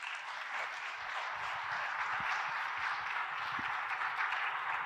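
An audience at a medical mini-school lecture applauding its speakers, a dense steady patter of many hands clapping throughout, fairly close and sustained without any talk.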